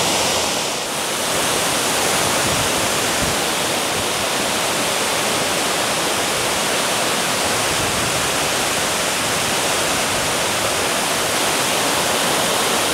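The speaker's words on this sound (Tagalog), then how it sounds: "Ito ay basa ng talsik ng tubig, ng waterfall." Tagbilat Falls in Zamboanga Sibugay roars as a loud, unbroken rush of falling water with heavy splashing spray, close up and steady throughout with no voices.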